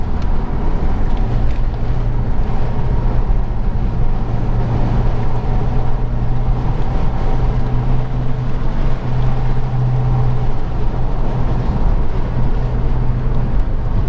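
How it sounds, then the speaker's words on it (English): A loud, steady engine drone with a deep low hum, continuous from a moving vehicle, with road rumble and no voices. "Yeah, this car is pretty loud, sounds good."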